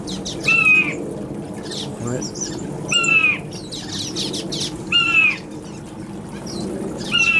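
Several birds in an outdoor aviary call in repeated bright chirping bursts at a moderate distance, over a steady low background hum, while someone speaks briefly nearby.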